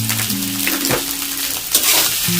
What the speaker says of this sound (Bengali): লবণ দিয়ে ভালোভাবে আলুটা ভাজা নিতেছি।